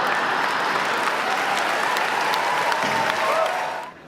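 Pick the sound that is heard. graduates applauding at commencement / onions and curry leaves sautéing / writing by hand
graduates applauding at commencement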